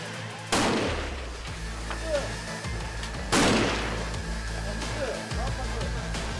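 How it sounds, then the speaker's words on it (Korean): Sniper rifle shots fired at pop-up targets at a military range, two loud sharp cracks a few seconds apart, each followed by a rolling echo, with voices murmuring in between. "빠른 시간 안에 작은 타깃을 찾아내고 정확한 거리를 계산해 명중시켜야 하는 임기 표적 사격"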